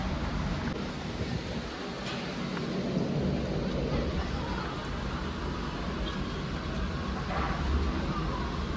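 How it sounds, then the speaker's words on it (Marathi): A heavy storm in Kalyan roars with strong wind and rain, a continuous loud rushing wash with gusty swells and low rumbles, and faint voices are audible beneath it. "उभेच होतो आणि वादळ एवढा आला."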